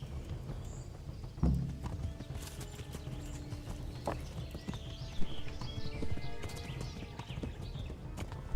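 A horse in the medieval game Kingdom Come: Deliverance trots with steady clip-clopping hooves at moderate volume, then gives a louder whinny partway through, with faint birdsong in the background.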